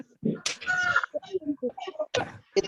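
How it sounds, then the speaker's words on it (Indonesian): Chicken clucking close to a participant's open microphone during an online English class, a run of clucks and crowing calls mixed in with people talking. "Itu yang punya ayam itu Pak."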